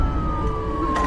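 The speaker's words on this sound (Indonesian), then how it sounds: "Sung Joon dan Tuan Park menyalakan sirene yang membuat pemilik gedung dan anak buahnya ketakutan" A police siren wails steadily inside a building during a dramatic film scene, a sustained rising tone layered over dense low rumble and background noise.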